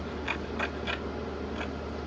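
Sharp scissors snipping through fabric while cutting out a pencil skirt pattern, four crisp close snips in an uneven rhythm over a steady low hum.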